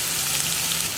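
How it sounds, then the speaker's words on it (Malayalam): Ginger, green chili and onion sizzling and crackling in hot oil with mustard seeds, a dense steady frying hiss close by with no voices. "കടുക് പൊട്ടി കഴിയുമ്പോൾ നമ്മൾ റെഡിയാക്കി വെച്ചിരിക്കുന്ന ഇഞ്ചിയും പച്ചമുളകും സവോളയും ചേർത്ത് കൊടുക്കുക."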